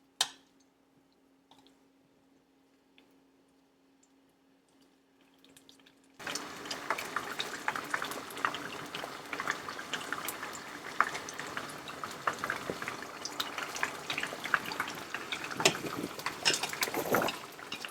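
Vietnamese sweet potato and shrimp fritters fry in a small pan of oil. After about six seconds of near silence, a busy, bubbling sizzle starts suddenly and holds steady to the end.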